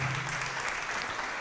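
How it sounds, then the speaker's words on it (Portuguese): A church congregation applauds in a brief, steady wash of clapping, dense and moderately loud with no distinct individual claps. "vamos aplaudir"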